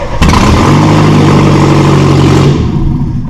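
Loud, close revving of a Volkswagen Golf engine running with no exhaust fitted and a broken manifold stud, a raw roar that climbs and holds for a couple of seconds, then drops away.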